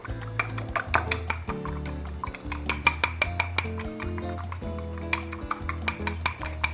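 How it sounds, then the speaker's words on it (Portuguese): Ingredients mixed with seasoned salt are stirred in a bowl, a spoon scraping and clinking in a quick, steady rhythm over soft background music. "Agora é só misturar os ingredientes."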